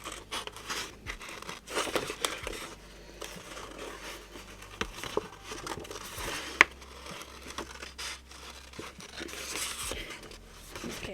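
Paper being cut and handled for a model railway layout cover gives soft, quiet crinkling and rustling with occasional small snips, close by and fairly faint.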